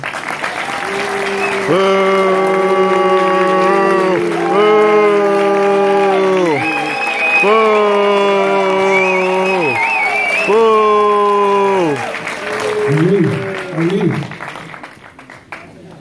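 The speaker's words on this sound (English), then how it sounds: "let's give him a big round of applause to Armando." Audience applause fills a hall at a political summit, a steady wash of clapping under loud, sustained chanting or shouting voices that rise and fall in long repeated phrases for the whole stretch.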